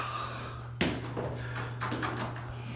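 An outdoor house door is opened at a friend's home, with a sharp click or latch sound followed by short rustling and handling noises over a steady low hum.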